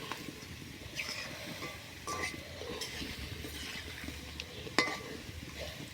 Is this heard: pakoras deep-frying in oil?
yes